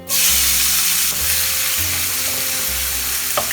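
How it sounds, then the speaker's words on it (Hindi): Onions fry with cumin seeds in oil, giving a loud, close, continuous sizzle from the start. Low tonal hum sits underneath, and a small clink comes near the end. "अभी हम प्याज फ्राई करेंगे।"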